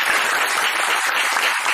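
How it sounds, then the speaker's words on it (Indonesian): Steady, dense applause from an audience at a pesantren reunion gathering, loud and continuous with only faint speech beneath. "tepuk tangan untuk guru kita"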